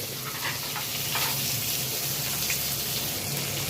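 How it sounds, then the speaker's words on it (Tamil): Onion and tomato frying in a tempering for sambar with dried chillies, a loud, close, steady hiss and crackle of sizzling oil throughout, with no talk. "தாளிப்புக்கு வெங்காயம் தக்காளி சேர்க்குறேன்"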